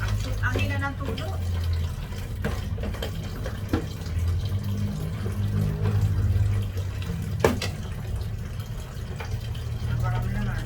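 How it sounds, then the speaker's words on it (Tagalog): A weak trickle of tap water runs into a kitchen sink as a steady, soft splashing hiss, while someone talks over it nearby. "Ang hina ng tulo."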